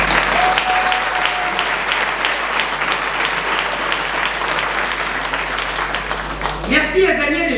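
Lively audience applause at a town's New Year greetings ceremony in Viviers, steady clapping from a gathered crowd that carries on several seconds before a voice resumes speaking.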